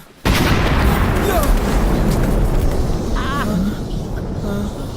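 A bomb explosion that starts abruptly as a loud, close blast and then rolls into a sustained heavy roar and rumble lasting several seconds, with faint higher whining tones near the end.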